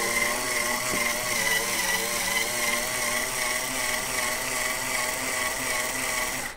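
Power case trimmer running continuously as it trims, chamfers and deburrs .308 Win brass, a steady whirring motor whine with a slight wavering pitch, close and constant throughout.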